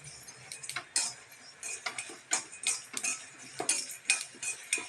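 Sesame, ajwain, dried chilies and coriander seeds dry-roasting in a pan give a run of sharp metallic scrapes and clinks from a stirring spoon, irregular taps and scrapes close up, with no talking.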